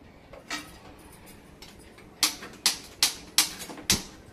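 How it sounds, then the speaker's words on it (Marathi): A gas stove's igniter clicks in a home kitchen while rice kheer is being made: one faint tick, then five sharp, evenly spaced clicks close by, with no talking. "आता आपण लावूया गॅस।"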